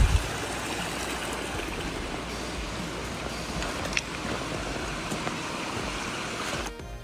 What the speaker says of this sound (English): a stream flowing through a tree that had stood for centuries